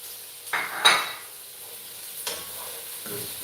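Carrots and French beans are stir-fried in a pan for sausage and vegetable noodles, with a few distinct scraping stirs and clinks over a faint steady sizzle, close and fairly quiet.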